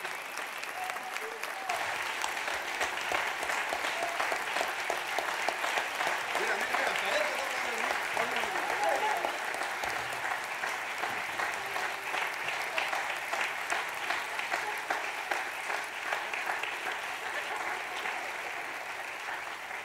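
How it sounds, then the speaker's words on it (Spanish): Sustained audience applause fills a verse-improvisation evening, a dense, steady wash of many hands clapping for about twenty seconds, with faint voices mixed in. "lo están diciendo ustedes con sus aplausos"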